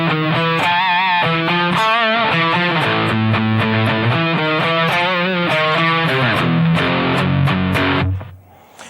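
A heavily distorted electric guitar plays a rhythm riff, a loud, dense chugging run of power chords that slide between changes for about eight seconds, then stop abruptly and ring out, with no voices over it.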